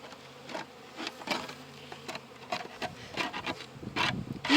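Honey bees buzz softly around a hive, with scraping and rubbing of a hive tool on wood and polystyrene mixed in, fairly faint and close by.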